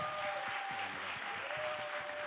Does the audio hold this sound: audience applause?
yes